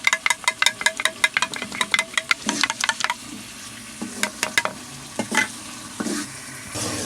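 Three eggs being beaten in a bowl, a quick run of sharp rhythmic whisking clicks followed by slower, scattered taps and scrapes, close and fairly loud, with no talk.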